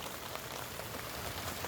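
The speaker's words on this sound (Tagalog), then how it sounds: "It's raining" Steady rain falls on surfaces during a harvest outing, a dense continuous patter of drops filling the whole moment with no talk over it.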